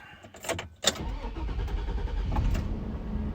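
A car left unused for four weeks cranks and its engine fires up, with clicks and a thump before the start, then a steady low idle rumbling close by.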